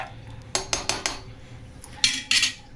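A metal lid clanks onto a cooking pot of rice several times in quick succession, close and fairly sharp, with a couple of brighter clatters toward the end in an otherwise quiet kitchen.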